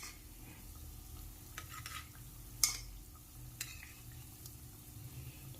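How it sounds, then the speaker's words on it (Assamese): Thekua, a wheat-flour dough, sizzles softly in hot oil, with faint bubbling and a couple of sharp scraping clinks as the pieces are turned over. "এইটো পিঠি ভজা হ'ল, মই এতিয়া লুটিয়াই দিম সিটো পিঠিলৈ।"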